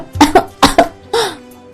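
A woman coughs in quick pairs, two double coughs followed by a longer throat-clearing cough, close and loud with no talk around them.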